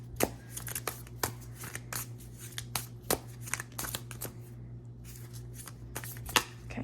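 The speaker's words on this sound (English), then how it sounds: "I'm gonna shuffle these a little bit just because I feel like they're sticking together" A deck of cards is shuffled close up in sharp, irregular riffles and flicks over a steady low electrical hum, with no talking.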